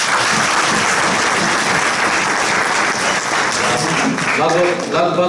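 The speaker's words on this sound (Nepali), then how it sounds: "हामी फेरि ताली बजाउन सक्छौँ" An audience at a youth fellowship gathering claps loudly and continuously, with dense applause filling the whole stretch and a few voices rising near the end.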